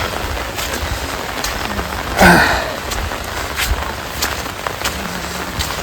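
Steady rain falls across a village, a dense hiss of drops on surfaces holding even from start to finish, with one brief louder burst near the middle and no voices.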